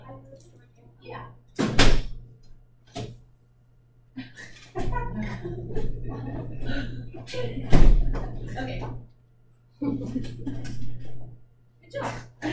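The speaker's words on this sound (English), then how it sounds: "push on the door as hard as you can." People push hard against a door, giving several loud thumps and rattles spread between bursts of talk and shuffling.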